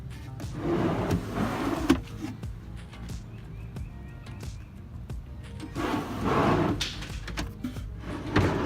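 A Home Depot drawer slide on ball bearings, fitted slightly bent into a DIY storage unit in a Toyota 4Runner, makes two close, rumbling, scraping pulls as the drawer slides out and back.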